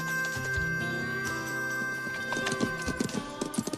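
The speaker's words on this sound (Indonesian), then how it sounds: "dengan mengirim Val dan Buzz pergi ke perkotaan terdekat dengan cara menunggangi kuda." Horses walking under riders, their hooves clip-clopping in a steady uneven rhythm that grows busier toward the end, with a brief whinny and a sustained tonal hum in the background.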